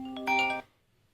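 A phone rings with an incoming call: one short, bright electronic ringtone chime, close and clear, lasting about half a second before cutting off into quiet. No one speaks.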